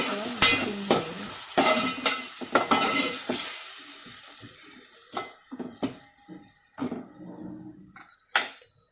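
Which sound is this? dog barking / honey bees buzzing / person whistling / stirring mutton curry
stirring mutton curry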